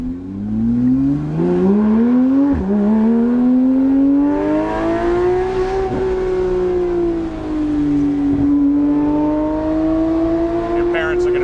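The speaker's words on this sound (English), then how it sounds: "So my car has no side mufflers, no center muffler, so it's deleted." A Porsche 991.1 GT3 RS with its side and center mufflers deleted drives under load, its loud raw flat-six howl sweeping up and down through gear changes, close and continuous.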